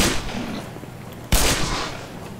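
A loud gunshot blast from the video game Black Mesa cracks out near the middle and rings off into a decaying echo, after a quieter stretch of combat noise.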